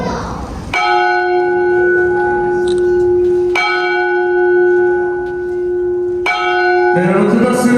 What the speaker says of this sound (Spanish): ahora ellas van a proceder a tocar la campana para iniciar con la boda